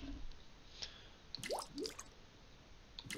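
Holy water in the Dracula Origin video game gives a few short, close liquid squishes and drips in quick succession, with no talking.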